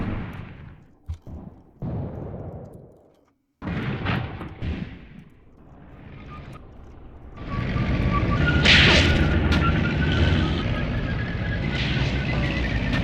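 Tank guns firing in a WWII tank battle game set in the Chouigui Pass, Tunisia, 1943, sharp booming shots broken by gaps, then a sustained loud rumble of engines and gunfire.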